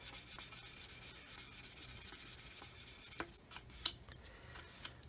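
A polishing stick rubs over the coarse plastic of a Roden 1/144 C-141B Starlifter model kit, a quiet, rhythmic scratchy swishing in repeated strokes, with a few sharper scuffs near the end.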